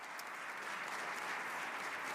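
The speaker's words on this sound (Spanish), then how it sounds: "El aplauso allí para el presidente electo democráticamente, Edmundo González Urrutia." An audience at the Nobel Peace Prize ceremony applauds president-elect Edmundo González Urrutia, a steady wash of clapping heard at a fairly low, distant level and running unbroken throughout.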